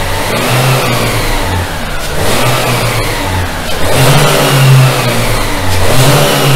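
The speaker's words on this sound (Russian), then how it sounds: "Давай сейчас немножко еще погазуй." A Renault Megane 2 engine, warmed up in a workshop, revs repeatedly in loud rising and falling surges over a steady low drone, close to the listener.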